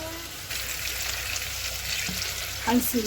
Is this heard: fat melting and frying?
yes